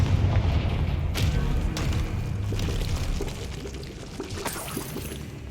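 Confringo fire-blast spell cast in Hogwarts Legacy, a rumbling, crackling burst with a boom-like roar that sustains for several seconds and slowly fades, punctuated by a couple of sharp cracks, no talking.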